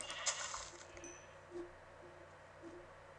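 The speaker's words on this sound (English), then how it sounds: "Get out of here, sheep." Blocky sheep in the game Minecraft bleating in a few short, faint calls spaced about a second apart, with soft game ambience and no talk.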